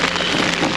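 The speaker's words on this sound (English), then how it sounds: "it's chucking it down with rain" Heavy rain pours down in a steady, dense hiss with no gaps, loud and close.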